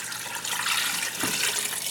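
Cold water pours into a stockpot over a chicken carcass and mirepoix, a soft continuous splashing and trickling that stays fairly quiet for about two seconds with no talking.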